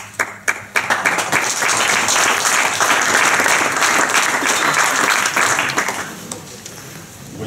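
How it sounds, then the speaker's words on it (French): A few scattered claps open the clip, then dense applause fills the room at a municipal election public meeting in Avranches, holding steady before tapering off near the end. "c'est la première fois qu'il m'applaudissent ce soir"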